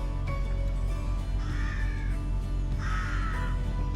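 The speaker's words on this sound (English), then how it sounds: "The only noise really has been the birds." Crows caw beside the Llangollen canal at Chirk Bank, two bursts of harsh calls at moderate distance over a steady low rumble of background noise, with no talking.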